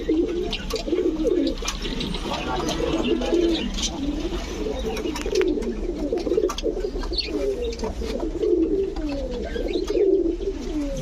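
Saharanpuri pigeons coo continuously in overlapping, rolling calls, several birds close by, with no talk over them.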